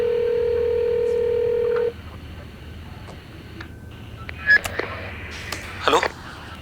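A telephone gives a steady dial tone for about two seconds, then falls quiet. Scattered short keypad beeps and clicks follow, close and fairly soft.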